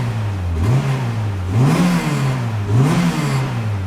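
A Honda B18 engine revs up three times in steady succession, each rise in pitch followed by a drop back to idle, with a throaty intake roar under the revs.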